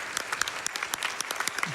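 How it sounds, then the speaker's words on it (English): Brief, steady applause from a small group, a patter of many overlapping claps at moderate volume. "Can I get a round of applause for Steve Ditko and Stan Lee?"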